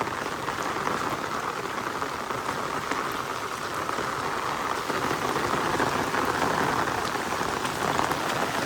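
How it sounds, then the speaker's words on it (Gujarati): Heavy rain pouring down on a muddy road, a dense constant roar of drops hitting surfaces, steady and fairly close with no speech. "એટલો ભારે વરસાદ પડી રહ્યો છે"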